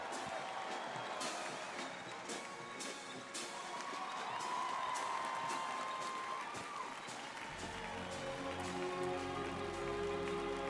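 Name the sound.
applause for the 82nd Airborne Ceremonial Band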